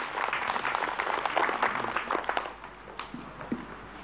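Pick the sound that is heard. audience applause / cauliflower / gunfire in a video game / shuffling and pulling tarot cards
audience applause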